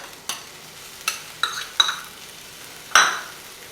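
Spinach, mushrooms, capsicum and tomato sauté in a pan over onion that has softened, with a steady sizzle and several sharp clinks of a spoon stirring against the pan.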